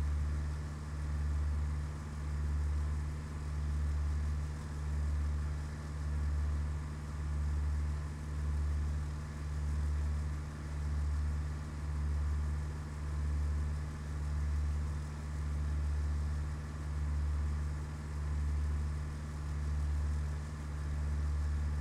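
A light aircraft engine droning steadily in level flight in Microsoft Flight Simulator, a constant low hum that pulses gently and evenly throughout, with no voices.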